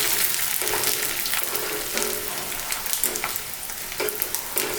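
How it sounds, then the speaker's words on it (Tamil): Neem flower vadagam chips fry in hot oil in a deep pan, a dense continuous sizzle with periodic stirring scrapes, close and loud with no talk. "எண்ணெய் காஞ்சிச்சுங்க, வடை போட்டுடலாம்."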